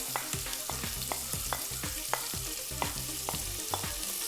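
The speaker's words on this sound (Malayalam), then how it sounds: "അപ്പോൾ നെയ്യ് ഇത്തിരി ചൂടാവുന്ന സമയത്ത് 2 വലിയ സവോള മുറിച്ച് വെച്ചതാണ്." Two large sliced onions fry in ghee for pulao, a steady close sizzle punctuated by quick, rhythmic stirring scrapes and taps against the pan, with no voices.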